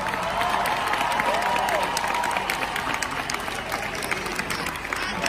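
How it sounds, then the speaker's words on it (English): An audience cheers and applauds throughout the Miss Universe 2019 final, a dense, continuous wash of crowd noise in a large arena. The sound holds steady and loud from start to finish. "give her a big round of applause because she came all the way from Colombia"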